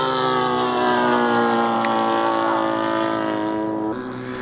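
A 77-inch-span RV-8 Old Crow RC model airplane's engine drones steadily in flight, a loud sustained buzz with slight pitch wavering that drops briefly in level near the end.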